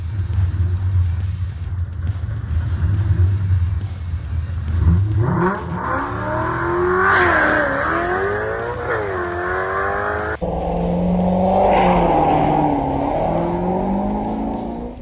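A loud drag car with a Coyote engine idles, then revs hard and accelerates away, pitch climbing through gear changes in a sustained roar.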